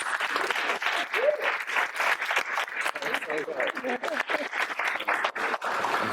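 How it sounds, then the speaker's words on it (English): A conference audience applauds after a social video panel session, producing a sustained, fairly loud wash of clapping with some crowd voices and a few cheers mixed in. "can we give them a round of applause?"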